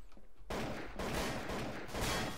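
Bursts of rapid gunfire from the game Trouble in Terrorist Town, loud and dense, in back-to-back volleys lasting about two seconds with no talk.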